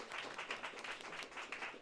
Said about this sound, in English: Let's give that a hand clap